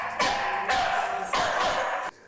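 Alex, a street dog, gives three drawn-out whimpering, yelping cries in close succession, each sustained and strained, loud and near with no talk over them.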